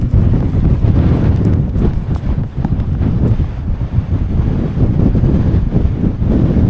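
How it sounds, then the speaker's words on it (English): Strong wind roars loudly and continuously across the microphone on a bike ride around the Widdop loop, a steady buffeting rumble with no break. "That wind is doing my nutting now"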